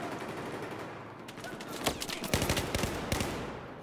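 Assault rifle gunfire from the M416 in Battlefield 4 gameplay on the Rogue Transmission map, a few quick bursts and single cracks over game ambience, moderately loud, with the sharpest shots in the second half.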